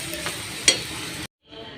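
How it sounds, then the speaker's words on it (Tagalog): Garlic, onion and small shrimp sautéing in a pan, a steady close sizzle with a brief sharp clink of stirring partway, then a sudden cut to near silence before a softer sizzle returns. "Ginisa na po natin yung bawang, sibuyas, tsaka itong ating maliliit na hipon."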